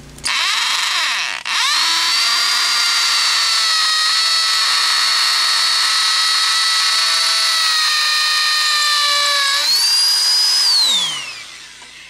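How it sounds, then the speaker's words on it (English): A power drill bores into concrete while fitting skirting boards, its high whine running steadily for about ten seconds after a brief start, rising in pitch near the end before winding down. "And then I'm going to screw in here with my drill bit and start putting them in."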